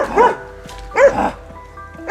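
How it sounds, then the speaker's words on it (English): Hunting dogs bark close by during a wild boar hunt in a field, giving three loud, separate barks spaced about a second apart, each with a rough, yelping edge. "the sound of hunting dogs barking rang out nearby"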